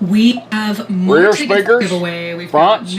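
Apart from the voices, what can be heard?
None of the usual background noises is heard.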